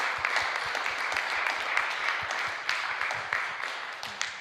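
An audience at a Christian mental health forum gives the speaker a round of applause, a steady patter of many hands clapping at moderate loudness throughout.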